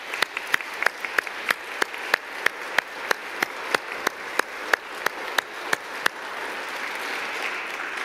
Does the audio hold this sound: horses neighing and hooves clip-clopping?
no